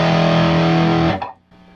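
Heavily distorted chord from an EVH Wolfgang Standard electric guitar played through an Orange Rocker 30 amp head, loud and sustained with rich overtones, then abruptly choked off into a brief fading decay.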